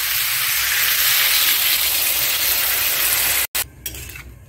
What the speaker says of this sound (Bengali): জল নিয়ে দিচ্ছি